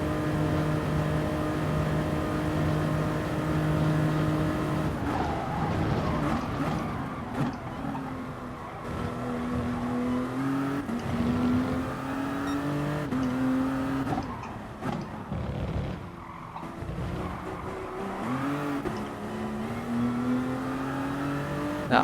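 Peugeot race cars at Circuit del Sol in GT Sport, one engine droning and revving through gear changes with rising and falling pitch, another car audible nearby, continuous and fairly loud.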